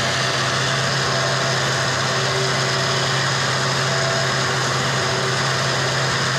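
A winch with a QuantumCoat-treated gearbox runs steadily, giving off a continuous, even motor drone and hum that stays at one level throughout, with no voices.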